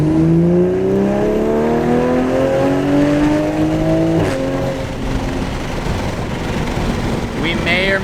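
A loud Toyota GR Supra pulls hard under acceleration, its engine note climbing steadily in pitch through the gear, then easing off with crackles near the end, close and continuous.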